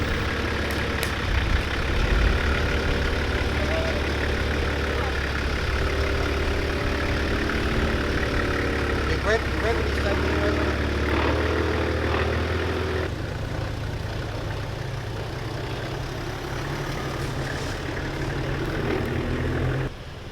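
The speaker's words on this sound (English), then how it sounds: "Notice here how the soft sand is breaking away as Steve idles past" A 4WD vehicle idles slowly past on soft, crumbling sand in Aupori Forest, New Zealand, its low engine rumble steady and fairly close throughout, easing slightly after the midpoint as it moves on.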